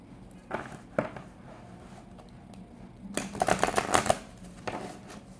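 Tarot cards are shuffled nearby in a few quick riffling bursts, the longest and loudest near the middle, with soft handling noises between them.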